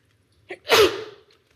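A single sharp sneeze bursts out during a town council meeting, a brief intake followed by a loud, close explosive release that trails off, with the room otherwise quiet.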